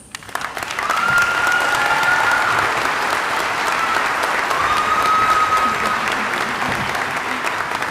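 Commencement audience giving a sustained round of applause, loud and dense from many hands, swelling after a quiet start and holding steady, with faint whistles or cheers riding on top.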